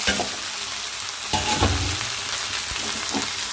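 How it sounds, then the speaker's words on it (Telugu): Onions, tomatoes, green chilies and okra fry with salt in a pan, giving a continuous loud sizzle broken by a few scraping stirs and clinks of a utensil. "ఉల్లిపాయలు టమాటాలు పచ్చిమిర్చి కోసారి బెండకాయలు మొత్తం వేసుకొని సాల్ట్ వేసుకొని ఫ్రై చేసుకోండి"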